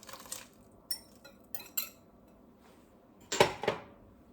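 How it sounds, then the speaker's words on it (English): Pieces of chicken go into a bubbling soup pot with milk, giving a few soft clinks and utensil knocks on the pot, brief and fairly close, with a louder pair of clatters near the end. "We're going to go ahead and put our chicken in."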